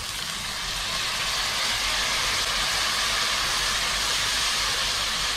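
Soy sauce hitting a hot sauté pan of chicken, a steady loud broadband sizzle and hiss that holds without pause for several seconds.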